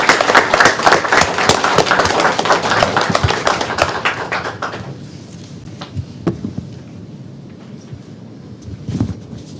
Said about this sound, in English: How about a round of applause for Dr.